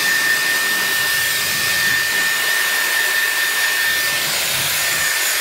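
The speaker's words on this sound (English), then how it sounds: "I'm just gonna start by using the little mini hairdryer section with it." A Dyson Airwrap hair dryer attachment blows continuously with a steady, airy whoosh and a faint high whine, close and unchanging throughout.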